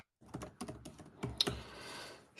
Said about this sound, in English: You hear that typing? Click it, clack, clack.